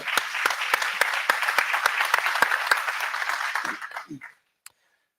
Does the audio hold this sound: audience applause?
yes